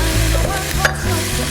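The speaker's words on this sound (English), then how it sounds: "put in my ginger and garlic, and then my onions, and let that fry up for" Ginger, garlic and onions frying in oil give a continuous sizzle under a low droning hum, with a brief sharper clatter midway and no speech.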